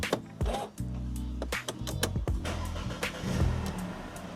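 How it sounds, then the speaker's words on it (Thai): A 2012 Mercedes-Benz W204 C180 Coupe engine catches on the first try: a brief cranking burst, then a steady idle hum with a few clicks and small level shifts, heard close and alone. "เดี๋ยวเรามาลองสตาร์ทรถให้ดูกันดีกว่านะครับ"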